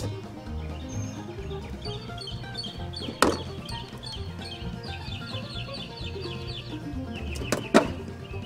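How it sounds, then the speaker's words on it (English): Birds call and chirp outdoors in a continuous, moderately faint chorus, with a couple of sharp knocks standing out. "Birds are loud today."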